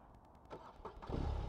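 A BMW R18 First Edition motorcycle engine cranks briefly with the clutch pulled and a few sputters, then catches and settles into a low, rumbling idle, close and fairly loud.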